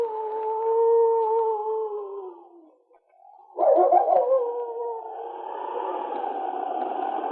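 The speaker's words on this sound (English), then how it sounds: "day and night he would lift his head to the skies and howl" A chained dog howls like a wolf: two long, wavering sustained howls, a brief pause, then a louder rising howl trailing into a steady drawn-out wail, close and alone without talk.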